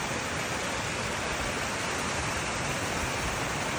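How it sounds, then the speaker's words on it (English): A waterfall roars outdoors with a loud, constant, broadband rush of falling water that stays even from start to finish, with no voices. "Waterfall."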